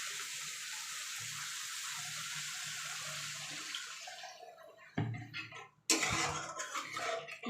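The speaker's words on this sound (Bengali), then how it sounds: "এবার আমি এর মধ্যে একটু জল দেবো" Water poured into a pan of fish curry masala cooking in oil, a steady rushing pour for several seconds that stops, followed by louder clattering splashes and bubbling.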